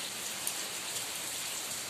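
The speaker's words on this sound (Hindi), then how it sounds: "फिर बारिश तुहानू दिखावां अज देखो इधर साडे लुधियाणे च" Steady heavy rain falls in Ludhiana on a rainy day, a dense continuous hiss with scattered drop patters, close and evenly loud throughout with no voices.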